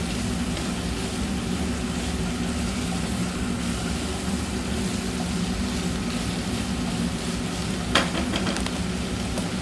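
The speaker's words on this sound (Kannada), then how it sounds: "ಇವಾಗ ಇದು ಓಪನ್ ಆಗಿ ಫ್ರೈ ಆಗಲಿ" Sliced capsicum fries in an open pan over a medium flame, a loud, dense sizzle that runs steadily throughout, with a brief clatter of a spoon near the end.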